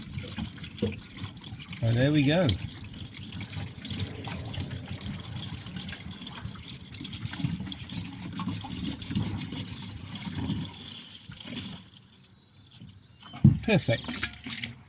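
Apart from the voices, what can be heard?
diesel fuel poured into heater fuel tank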